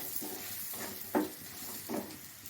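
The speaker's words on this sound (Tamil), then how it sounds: "இது வந்து நல்லா வதக்கணும்லாம் இல்லை, ஓரளவுக்கு வதக்கினா போதும்." Onions sauté in a pan for a side dish: a soft, close sizzle with three or four distinct scraping stir strokes spaced about a second apart.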